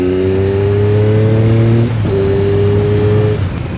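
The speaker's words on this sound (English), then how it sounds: "As you can hear, that exhaust," A 2001 Triumph Daytona 955i motorcycle engine through a Micron exhaust, revved loud and close with a strong droning tone that rises, dips briefly and holds again before easing off.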